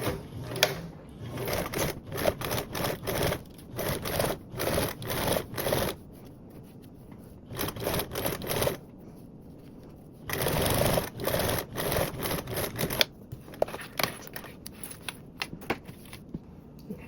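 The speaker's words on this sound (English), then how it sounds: "Now we're going to top stitch this seam." A sewing machine top-stitches a seam at a 1/8-inch allowance on a fabric blanket backpack, running in quick rattling bursts separated by short pauses, close up and alone.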